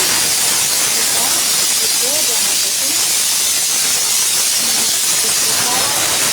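Steam hisses from a pot of dal cooking in a village home: a loud, steady, unbroken hiss that fills the whole stretch, with faint voices underneath.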